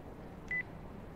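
A single short electronic phone-dialing beep from the Yakuza 4 video game sounds faintly once over a quiet background hum.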